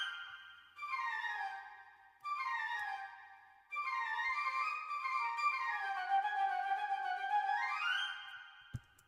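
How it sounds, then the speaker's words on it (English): Flutes play a sustained, legato phrase in A Phrygian that dips and then rises, with held tones that swell and glide between notes. Two short opening figures lead into a longer line, clean and alone. "so flutes should sound like this now"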